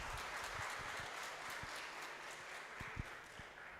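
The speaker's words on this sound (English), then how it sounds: "Please give a warm applause to Professor Idris." Warm applause from the audience at an international healthcare conference greeting a professor as he takes the stage, a dense even patter of many hands with a few sharper close claps standing out, fairly quiet and unbroken by speech.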